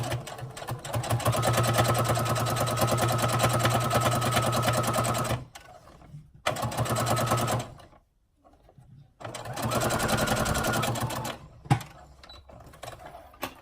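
A sewing machine bastes bra cup pieces together in steady runs of fast mechanical stitching, close and even, stopping briefly twice with quiet pauses and small clicks between bursts.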